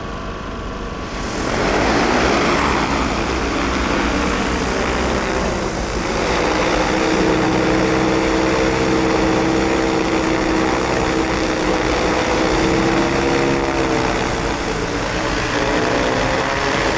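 A Kubota T30K agricultural spraying drone lifts off for a field demonstration at a farm machinery show, its rotors swelling into a loud, steady broadband whir that holds, with a slight shift in pitch, as spraying begins.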